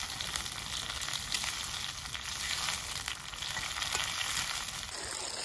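Fish curry (jhol) simmering and sizzling in a pan, a steady close frying hiss with soft bubbling that runs unbroken and fairly loud throughout, with no talking.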